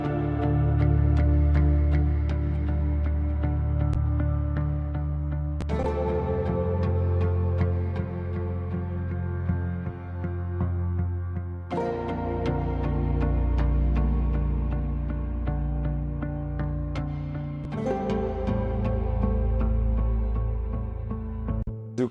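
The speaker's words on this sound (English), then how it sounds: "We have simple melody with a lot of delay and a lot of reverb" A slow synth melody rings out in sustained notes, each phrase trailing off in long echoing delay and washy reverb. The notes are loud and heard alone.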